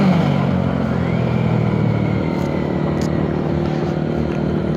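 Steady engine drone of a small Honda CBR 250cc motorcycle ridden along a bumpy coastal road on the Côte d'Opale, continuous and close with wind rush, a few brief clicks over the constant hum.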